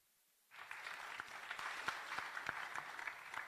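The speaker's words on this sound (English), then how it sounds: "Let the applause go until he sits." Applause from the audience at the ITU Regional Development Forum for Africa 2018, a sudden burst of dense, steady clapping that stays even and fairly distant for several seconds.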